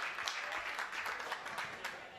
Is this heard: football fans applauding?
yes